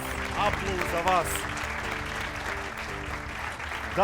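An audience applauds at a live one-on-one show, a broad steady clatter of clapping lasting throughout, mixed with background music and a voice.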